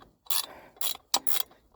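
A ratchet and 14mm socket loosen a part on a 1984 Ford 6.9 IDI diesel engine during oil cooler seal work, giving several quick bursts of clicking ratcheting, close and crisp, with no talking.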